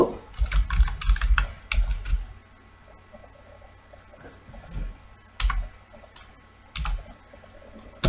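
Bursts of quick computer keyboard typing while a line of C code is entered, clustered clicks near the start and again in short runs later, close and fairly loud against a quiet room.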